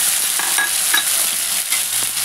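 Puree hits hot oil in a pan for a paneer dish, sizzling loudly and steadily while a spoon stirs in short scraping strokes, close up, with no speech.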